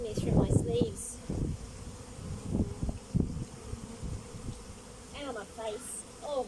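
Honeybees, among them many drones, buzz around an opened hive, a dense insect drone heard close amid rustling, handling bumps and a few chirps.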